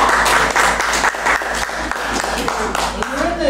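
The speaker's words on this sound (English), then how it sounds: "You can clap now." Audience applause following a poetry reading, a sustained round of clapping from a room of listeners, close and fairly loud, with a voice speaking briefly over it.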